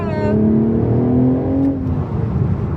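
Engine of a 2026 BMW Z4 M40i with manual transmission rising and falling in pitch as it revs on a downshift, loud and close from inside the car.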